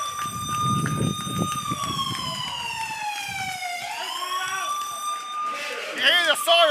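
A wailing siren sweeps up and down over crowd noise at a football match just after the final whistle, then shifts to a rapid yelping pattern near the end.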